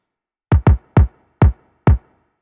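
A layered second kick drum sample chosen for trashy punch, struck five times in an uneven pattern, each hit a sharp, punchy, close thump with a quick decay and no talking.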